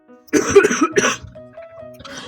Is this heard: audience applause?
no